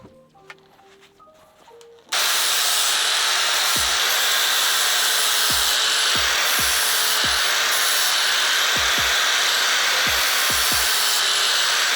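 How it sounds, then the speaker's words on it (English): A power tool grinds a lawn mower blade after a quiet start, a loud continuous abrasive whine with repeated low thumps as the blade is worked against it, close and steady. "we'll sharpen the other end"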